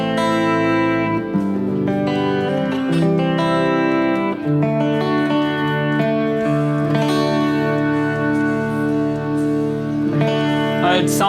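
A clean Harley Benton Fusion electric guitar in full humbucker mode plays sustained, warm chords and notes with a full, rounded tone, ringing on its own without any talking.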